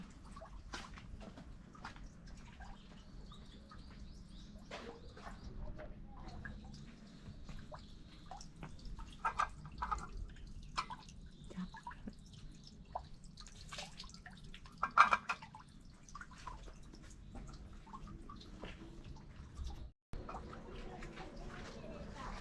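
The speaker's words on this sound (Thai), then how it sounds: "อันนี้เป็นที่ล้างมือนะคะ" Water drips and trickles at a Japanese shrine hand-washing basin, a faint irregular patter over a low outdoor hum, with occasional soft distant voices.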